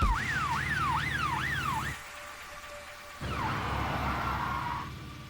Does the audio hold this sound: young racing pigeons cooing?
no